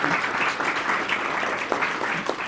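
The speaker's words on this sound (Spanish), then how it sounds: "Denos un aplauso para que se nos quite un poquito el susto." Audience applause at a business talk event, a dense, continuous round of clapping from a crowd lasting a few seconds, with some faint voices underneath.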